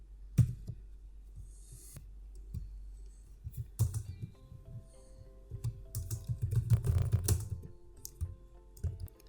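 Close keyboard typing while code is entered for a JavaScript promises example, irregular bursts of clicky keystrokes with short pauses, growing denser toward the end, no talking.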